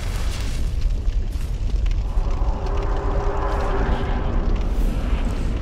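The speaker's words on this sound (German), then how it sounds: "woran ich jetzt erkenne, dass er irgendwie so diese Explosion macht" A continuous, heavy rumbling explosion from the Smelter Demon boss in Dark Souls II roars without a break, with a fiery, crackling texture throughout.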